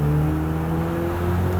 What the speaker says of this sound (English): You can hear the turbo whistling away